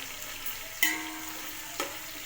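Onions fry in a pan for mushroom biryani, giving a steady close crackling hiss broken by two sharp clinks of a utensil stirring, with no talking.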